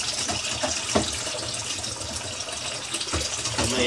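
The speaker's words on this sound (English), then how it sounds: "There's a lot of water drain out." Water gushes steadily down a just-unclogged sink drain, a continuous near rushing flow with a few gurgling surges and no voices.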